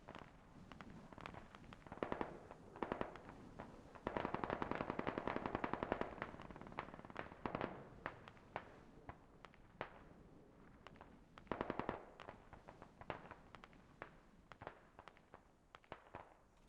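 Bursts of automatic gunfire and scattered single shots from a Squad tournament match, fairly distant and muffled, coming in clusters with quieter gaps between.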